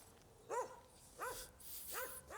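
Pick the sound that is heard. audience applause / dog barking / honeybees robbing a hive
dog barking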